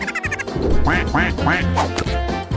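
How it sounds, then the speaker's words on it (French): Ducks quack loudly and close by, a quick run of repeated nasal calls following one another. "Elle pourra regarder les jolis canards nager le soir."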